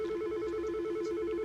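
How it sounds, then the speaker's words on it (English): A Yealink T48-series VoIP desk phone rings for an incoming call with a steady electronic two-tone warble, loud and close, holding unbroken with no voices over it. "When a phone call is coming in"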